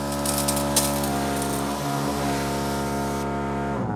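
A dual garden pump hums with a strong steady drone while water hisses out through a 100-meter hose from a steel vertical garden box outdoors, continuous and close, the tone shifting near the end.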